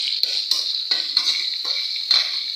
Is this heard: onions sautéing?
yes